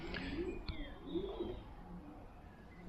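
Soft cooing of a racing pigeon being handled, a few low throaty coos close to the microphone, with faint background noise and no talk.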